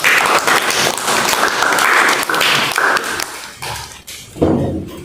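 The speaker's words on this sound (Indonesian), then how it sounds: "Kita beri tepuk tangan untuk semuanya dulu." Classroom audience applauds together at the end of a lesson, a dense, steady wash of clapping that fills the room, then thins toward the end with a few scattered claps and a voice.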